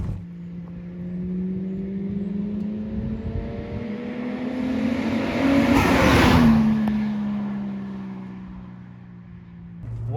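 A Toyota Chaser JZX100's 1JZ engine drones steadily as the car drives, the pitch rising and swelling louder midway before easing back, with road noise underneath.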